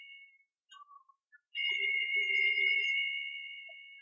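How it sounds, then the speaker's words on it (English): Telephone ringing in a film: a steady electronic warbling tone sounds loud and clear for a few seconds, with a short fainter burst of similar tones just before it. "Folks, it's just a phone."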